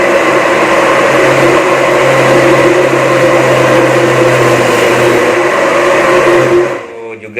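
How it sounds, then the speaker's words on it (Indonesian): A blender grinds chili, galangal, ginger, shallot, garlic and turmeric with a loud, steady motor whir that runs nearly the whole time, then cuts off near the end. "Kita lanjut ngeblender ya."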